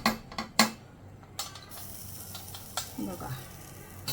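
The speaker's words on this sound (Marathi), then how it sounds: "मिश्रण म्हणजे कोळसा टाकूया." Pieces of charcoal dropped into a small bowl set on rice for chicken dum biryani, giving several sharp clinks and rattles, close and brief, with a short spoken word.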